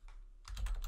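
Quick keystrokes on a computer keyboard while entering a value into an automation tool, a close, steady flurry of clicks that starts about halfway through, with no talking.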